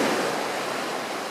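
Surf washing onto a beach at Amed on Bali's coast, a steady, full broadband roar of breaking waves close by, continuous and without voices.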